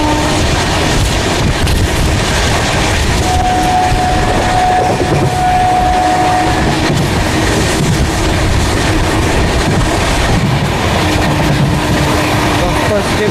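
Train 04064, a summer special from New Delhi to Gaya, runs at speed on the rails, a loud continuous roar of wheels and wind rushing past the microphone, with faint rhythmic rail clatter.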